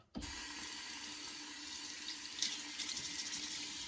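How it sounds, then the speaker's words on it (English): A shaving brush held under a running tap for soaking, the steady water stream hissing loud and close for the whole length, with a brief splashier surge partway through. "Soak that. Put under the tap."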